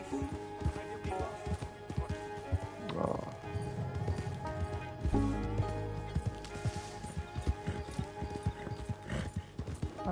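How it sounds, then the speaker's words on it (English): A video game horse gallops off with steady clip-clop hoofbeats and a whinny, fading as it runs away over a faint game backdrop. "My horse ran away!"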